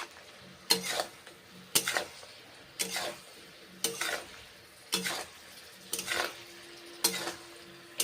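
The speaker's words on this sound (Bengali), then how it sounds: "কষে নিচ্ছি এইভাবে রান্না করে নিচ্ছি মাশরুম ফুলকপি" Mushroom and cauliflower curry being stir-fried: a spatula scrapes the pan in regular strokes about once a second, each with a short clatter over a low, continuous sizzle.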